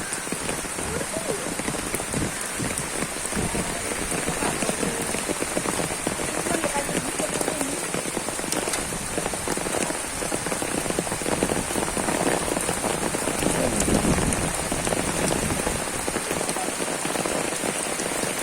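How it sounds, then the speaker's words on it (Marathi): Steady, heavy rain pours down in a dense, continuous hiss, close and loud throughout, with no pauses. "मित्रांनो पाऊस पडतोय"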